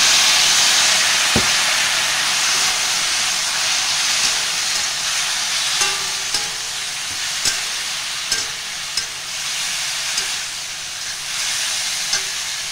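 Garlic sizzling in hot oil in a pan for jackfruit curry, a loud steady frying hiss with scattered small pops and clinks of a utensil throughout.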